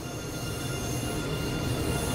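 A train running in the Train Sim World 2 rail simulation game, with a steady, loud wheel-on-rail rumble and high squeal that holds constant for the whole stretch.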